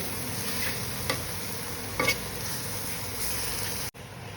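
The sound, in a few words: onions frying in a pan for chutney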